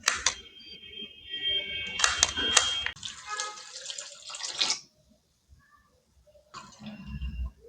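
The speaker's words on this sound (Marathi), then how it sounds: "मुळा किसून घेतल्यानंतर व्यवस्थित धुवून घ्यायचं आहे" Grated radish being rinsed in water, with splashing and running, tap-like water loud for about five seconds, then a short pause and another burst of sloshing.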